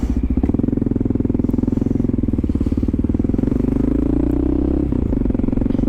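Air-cooled motorcycle engine running while riding through New York, a loud, steady close-up thrum with rapid firing pulses and a slight shift in pitch near the end.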